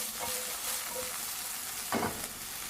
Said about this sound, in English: let it cook on low flame for 10 minutes,